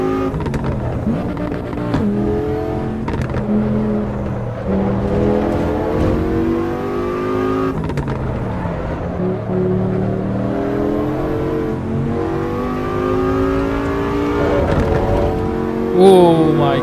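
A Porsche 911 GT3 engine rises and falls as it races round the Nordschleife in Assetto Corsa EVO, a loud, steady, close whine that climbs through the gears with brief dips at each shift and a final surge.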